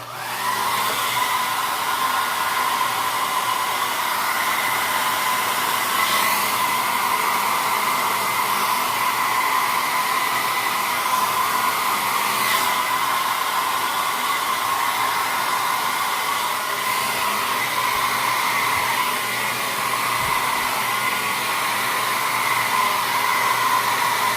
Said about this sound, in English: in comes the manly blow dryer